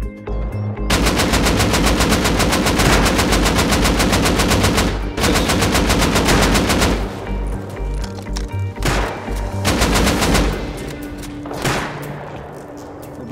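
Automatic rifle fire in the game Rust rattles in long, loud sustained bursts, followed by shorter volleys and isolated shots as the exchange winds down.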